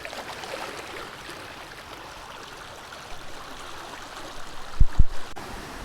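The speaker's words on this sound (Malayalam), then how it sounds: "വെള്ളത്തിൻ്റെ ഒരു ഒഴുക്ക് നല്ല രീതിയിൽ തന്നെ ഉണ്ട്." River water flows steadily over the Thirunellayi check dam on the Bharathapuzha in Palakkad, Kerala, a soft continuous rushing in the background, broken near the end by a few sharp knocks.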